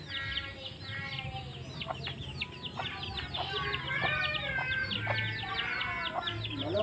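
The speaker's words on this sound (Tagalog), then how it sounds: "nay lubi, nay manok" Chickens on a farm cluck and squawk in a busy flock close by, overlapping calls and short cackles over a low steady background hum, with no talk.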